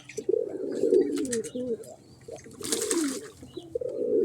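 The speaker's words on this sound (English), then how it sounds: "Pigeons in the bath." Pigeons coo in low, throaty bursts close by while splashing water from a bird bath breaks in with a brief hissy burst midway; no one speaks.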